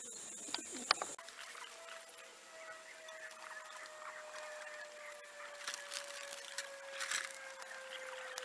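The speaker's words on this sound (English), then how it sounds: "Another recessive red bird, just flapping around." Recessive red pigeons in a loft, heard as soft bird calls and occasional flutters with light rustling and a faint steady hum, fairly quiet and without talk.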